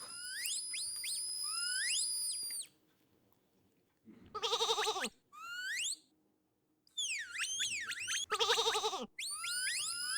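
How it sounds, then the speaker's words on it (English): Cartoonish sheep bleats from a Ludum Dare game, repeated in bright, close bursts separated by gaps, with synthetic whistle-like chirps and game sound effects running in the background. "By the way, I really love it that they go ba."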